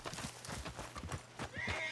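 Horses in the Red Dead Redemption 2 game world clip-clop in a steady walking rhythm close by, with a whinny rising near the end over faint ambient game sound.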